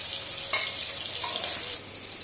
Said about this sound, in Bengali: এটা ভাজে নিই, তারপরে এটা ভাজা এটা আলু ভাজবো।